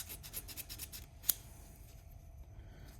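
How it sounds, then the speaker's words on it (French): Metal file rasping on the contact breaker screws of a 1971 VW Beetle, a run of quick, close scraping strokes at first, then a single sharp click and quieter faint scraping, with no talk. "on peut se permettre de limer un peu les vis"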